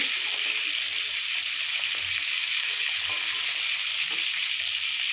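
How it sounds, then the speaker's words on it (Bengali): Pieces of hilsa fish fry in hot oil, a dense, even sizzle holding at a steady level throughout, with faint crackles and no talking. "একটু কড়া কড়া করে ভেজে নেবেন"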